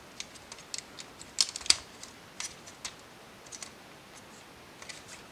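Small plastic clips on a Transformers Bumblebee toy car being pried and unsnapped during disassembly, a series of faint, sharp clicks and snaps scattered irregularly, with a tight cluster of louder snaps in the middle.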